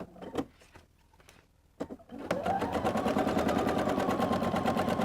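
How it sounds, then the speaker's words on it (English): A home sewing machine runs a long basting stitch, starting after a few scattered clicks and handling noises, then buzzing in a fast, even, close mechanical chatter that holds steady to the end. "Switching to my regular presser foot, I'm going to do at 3/8 a basting stitch all the way around."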